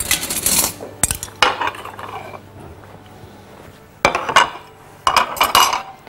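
Metal spoons clatter and clink in several sharp bursts, close by in a kitchen while baking cupcakes, with quieter rattling between them and no talking.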